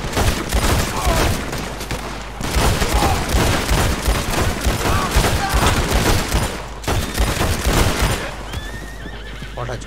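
Rapid gunfire rattles through a Red Dead Redemption 2 shootout, with dense overlapping shots and horses whinnying throughout a loud, continuous battle mix.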